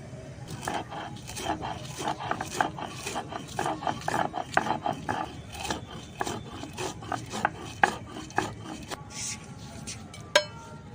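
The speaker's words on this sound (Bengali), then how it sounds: "এখন এখানে আমি যে গোটা মশলাগুলো ভেজে রেখেছিলাম এটা গুঁড়ো করে নেবো" Roasted whole spices being ground into powder, heard as a rhythmic, gritty rasping and crunching of repeated grinding strokes, fairly close, with a brief higher whirring near the end.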